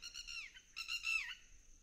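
Birds call near their nests in the grass, giving two faint, short whistled bursts close together, with quiet background.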